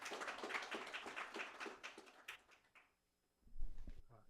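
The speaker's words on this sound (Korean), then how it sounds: "조병욱, 정세진 님을 모두 큰 박수로 맞이해 주시기 바랍니다" Applause from a conference audience at a journalism event welcoming two newspaper reporters, a dense patter of clapping for about three seconds that fades out, followed by a short low rumble.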